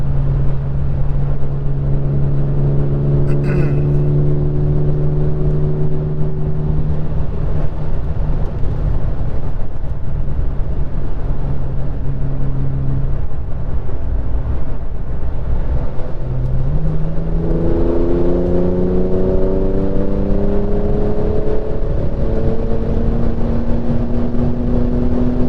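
A 2021 Porsche 911 Turbo S on a three-day rally drive gives a steady, loud engine drone heard from inside the car, with tones rising and shifting as it accelerates through the gears, and no talking.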